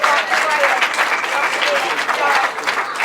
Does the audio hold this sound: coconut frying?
no